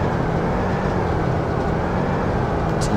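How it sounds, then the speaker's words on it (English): A train in Farming Simulator 2017 rolls forward with a continuous low rumble and steady mechanical drone, even and unbroken throughout with no speech. "Get back to the train."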